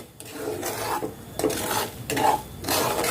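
A spoon scrapes steadily through semolina and gram flour dry-roasting in a pan for moong dal halwa, giving repeated close rasping strokes in an even rhythm with no talk.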